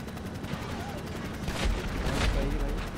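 Gunfire and a plane being blown up in GTA Online during the Doomsday Heist, heard as a continuous dense crackle of shots with a heavier low blast swelling midway and lingering.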